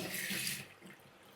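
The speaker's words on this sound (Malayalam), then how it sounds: "പക്ഷെ വെള്ളം കൂടി ഒഴിക്കണം." Water splashes and pours into a cooking pot in a home kitchen, a steady broadband rush that fades after about half a second into faint trickling.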